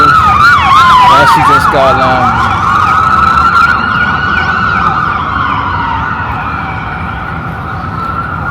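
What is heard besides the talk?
ambulance siren passing by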